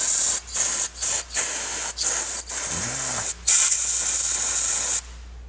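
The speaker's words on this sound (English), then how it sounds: "Running out of brake clean." A can of brake cleaner hisses loudly and close up as it is sprayed onto a magnet, in a string of short bursts followed by one longer steady blast that cuts off abruptly.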